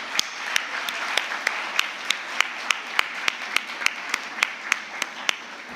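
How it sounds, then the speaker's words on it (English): Audience applause at a conference valedictory closing ceremony in an auditorium, a steady wash of clapping with sharp individual claps standing out at a regular pace, fairly close and sustained throughout. "Please give them a huge round of applause."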